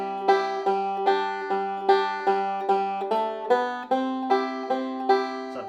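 Banjo playing a simple walking line built from major-scale notes, bright plucked notes sounding one after another at a steady, even pace, clear and close with no voices.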